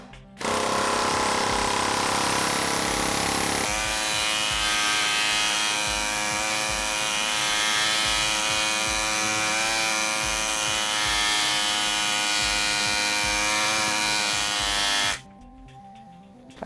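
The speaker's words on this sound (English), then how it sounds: "I think you can see that pneumatic hammering tool really does a beautiful job" A pneumatic hammering tool rapidly pounds a metal roadster body panel, a loud continuous buzzing rattle that runs for about fifteen seconds before stopping abruptly, with no talking.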